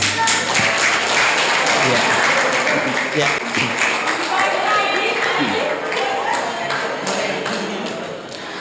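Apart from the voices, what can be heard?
audience applause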